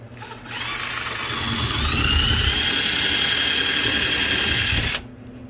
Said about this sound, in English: we're going to do some pilot holes with maybe like 3/8